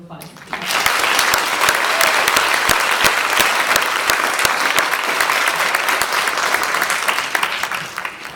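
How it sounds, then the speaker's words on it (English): An audience at a 5th grade promotion ceremony applauds for Ms. Hollis's class, a loud, dense burst of clapping that swells quickly and holds steady for several seconds before starting to thin. "if we could give Ms. Hollis's class a round of applause"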